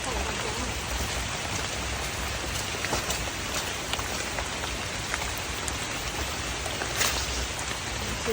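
Steady rain falls outdoors during a search for termite mushrooms, a continuous close hiss of drops hitting the ground and foliage with no voices over it.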